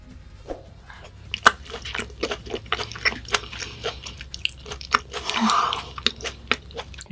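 Raw beef bibimbap mixed with egg is chewed close to the microphone in a Korean mukbang, with rhythmic wet, sticky chewing and sharp crunchy bites repeating steadily, with no talking.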